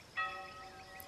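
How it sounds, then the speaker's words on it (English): A church bell in a Goethe's Faust audio drama strikes once and rings on with a sustained, slowly fading chime. "Accursed bell! That sound behind me is like a dagger in my back."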